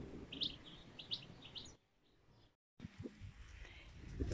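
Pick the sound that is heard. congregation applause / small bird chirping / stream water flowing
small bird chirping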